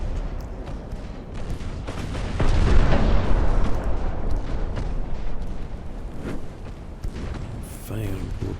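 Warship guns firing in the naval video game Ultimate Admiral: Dreadnoughts, a deep rumbling boom that swells and rolls on for several seconds under continuous low battle noise.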